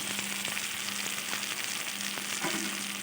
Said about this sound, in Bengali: দিয়ে আবারও আমি সবগুলো উপকরণ খুব ভালোভাবে একটু কষিয়ে নেব